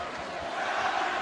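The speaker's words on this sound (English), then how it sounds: "now you have the crowd chanting Scottie Pippen" A basketball arena crowd chants in unison at a LeBron James game, a dense, sustained roar of many voices heard from a distance with no break.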